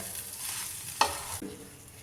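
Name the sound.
poli flatbread roasting on a pan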